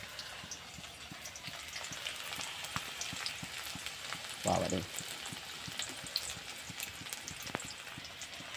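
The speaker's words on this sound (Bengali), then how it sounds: "পেঁয়াজ লঙ্কা দিয়ে দিয়েছে এগুলি বেশি ডিপ ফ্রাই করবে না হালকা ফ্রাই করবে" Continuous crackling sizzle of onion and chilli frying in hot oil, dense and steady, with one brief louder clatter partway through.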